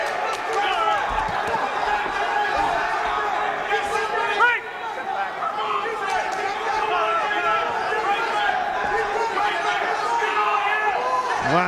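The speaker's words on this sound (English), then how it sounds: "You can hear that crowd." A boxing crowd at the 2010 Golden Gloves finals: a constant roar of cheering and chatter through the arena, with voices talking over it and a brief louder surge midway.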